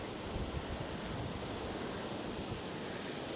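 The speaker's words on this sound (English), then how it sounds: "look how windy it is." Gusty wind rushes past the microphone beside a canal at Foxton Locks, a steady loud broadband roar that swells and buffets in gusts with no other sounds.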